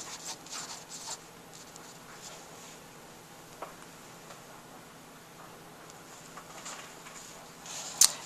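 A pen moves across paper as the word revenue is handwritten for an income statement; the scratching is soft and steady, with faint scribbles and a sharper tap near the end, and no voice is heard.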